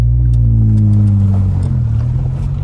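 A Peugeot 206 GTI 180 engine runs loud and close, its deep steady exhaust drone rising slightly in pitch as the car pulls away, with no one talking.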